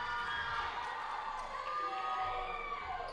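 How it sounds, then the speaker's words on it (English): Crowd at a school senior sports game between the Knights and Phoenix, cheering and shouting in a gym, a moderately loud, steady wash of excited voices with some higher children's yells. "And the crowd getting excited for this one"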